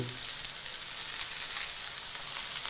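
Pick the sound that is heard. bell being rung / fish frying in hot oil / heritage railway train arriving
fish frying in hot oil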